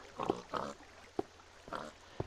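Pigs oinking in the video game Minecraft, several short grunts in a loose irregular sequence, some paired and others single sharp snorts, fairly close and moderately loud with no talk over them.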